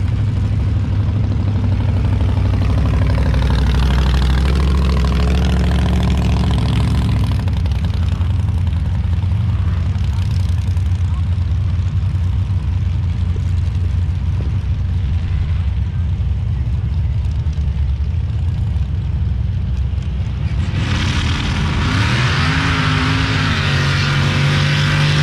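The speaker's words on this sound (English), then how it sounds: "next pair here is going to be Dennis Bennett in the four-cylinder dune buggy" A four-cylinder dune buggy and a green Jeep CJ7 at a sand drag race, engines droning loud and steady with revving swells, a rising roar near the end, and an announcer's voice running over the engines.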